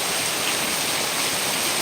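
Heavy monsoon downpour in Kerala roars as a dense, unbroken hiss of rain falling on surfaces, loud and close, with no voices over it.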